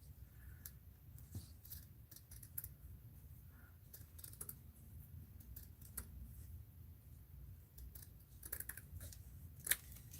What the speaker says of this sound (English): we'll cut it lengthwise first